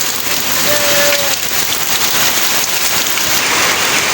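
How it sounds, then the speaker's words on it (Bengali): Heavy rain from Cyclone Remal pours steadily beside a poultry farm, a dense, constant hiss of water striking surfaces with no breaks and no voices. "এখনও বৃষ্টি পড়তেছে"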